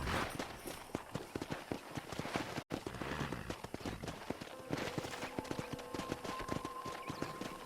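Several horses gallop in the Western video game Red Dead Redemption, their hooves clip-clopping in a fast, steady, close rhythm, with a brief shout near the start.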